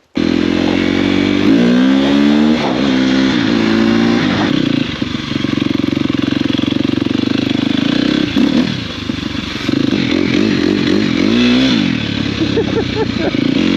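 A KTM 250 dirt bike engine roars loudly up close while riding in snow, revving and dropping repeatedly with rattling clatter, while a voice speaks briefly over it.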